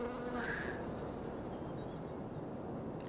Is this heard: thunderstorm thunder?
no